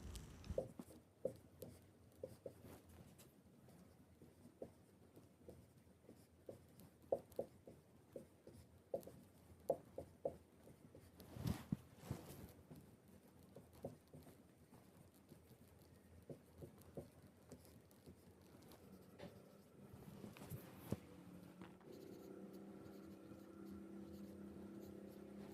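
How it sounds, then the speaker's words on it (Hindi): Marker or chalk writing on a classroom board: faint, scattered scratchy taps and strokes in irregular bursts against a quiet room background, with a louder rustle partway through. "मैं फिर से यहाँ पर लिख देता हूँ"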